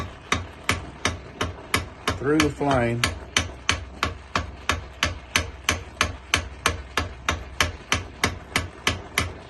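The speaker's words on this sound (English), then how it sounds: "And my hammer is going to be actually hammering" A hammer strikes hot mild steel for a forged knife spacer, delivering steady, evenly spaced ringing blows about three per second, close and sharp, with a short spoken phrase partway through.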